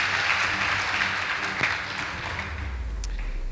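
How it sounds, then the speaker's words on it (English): Applause for a girls' secondary school debate team: a hall full of clapping, fairly close and dense, gradually thinning out over a few seconds as a low rumble rises underneath. "Please give them a round of applause."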